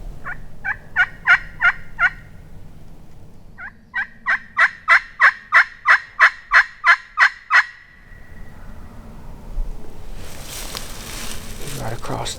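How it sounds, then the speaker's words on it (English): A wild turkey gobbles in two bursts of rapid, rhythmic rattling calls, fairly close, followed by rustling and a hiss of noise at the end. "He gobbled right there."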